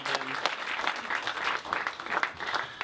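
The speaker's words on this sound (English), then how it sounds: "Let's give him another round of applause" Office colleagues at a real estate sales meeting applaud an agent for his listings, a small group clapping in a brisk, uneven patter that pulses rather than holding a smooth roar.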